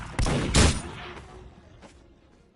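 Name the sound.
gunshots in video game Roblox Dead Sails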